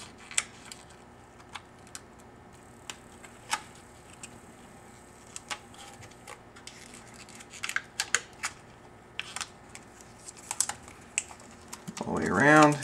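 Backing layer being peeled off a precision-cut graphic overlay film: scattered small crackles and ticks at uneven intervals, close and quiet, ending in a louder, longer tearing rip.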